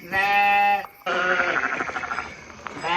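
A sheep bleats nearby, a short call followed by a longer, wavering bleat, loud and clear with no talking.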